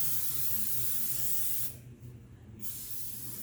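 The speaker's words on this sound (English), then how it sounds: "that aerosol from the nonstick spray" Nonstick cooking spray hisses from an aerosol can into a baking dish for brownies, a short broadband spray of about a second under steady low kitchen hum, no voices.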